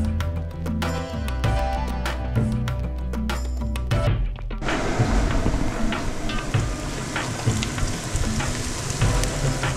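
Ginger, garlic and ground coriander-mint paste sauté in hot oil for mutton biryani. The first seconds are quieter with tonal background, then a loud, dense sizzle surges in and continues steadily up close.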